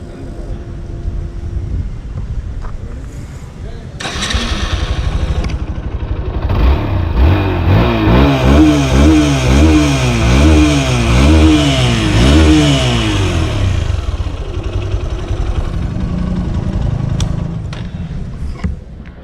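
A 2019 Hero XPulse 200 adventure motorcycle cranks over and starts, then revs up and down in a series of loud, close throttle sweeps before settling back to idle.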